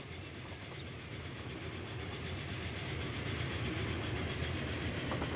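A passenger train rolls past in a simulated railway scene through woodland, with a steady rushing rumble and faint rhythmic clatter that swells gradually louder.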